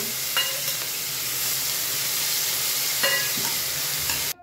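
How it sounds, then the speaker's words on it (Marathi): Green chilies frying in hot oil, a steady close sizzle and hiss throughout with a couple of stirring clatters, no talking. "आता तेल तापल्यानंतर आता आपण याच्यात टाकूया मिरची, परतून घ्यायची"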